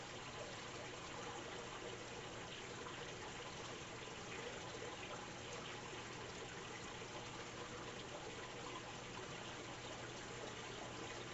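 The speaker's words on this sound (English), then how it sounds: "With this water pump, it doesn't take very long at all, so just makes the water changing and cleaning of the tank that much easier" Water pump steadily draining water out of a fish tank during a water change, a continuous broadband rushing gush that holds at an even level throughout with no voices.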